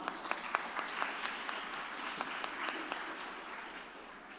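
Audience applause at a personal branding talk at UBSI, a steady wash of many hands clapping with a few sharper claps standing out, moderately loud and sustained throughout with no talking over it.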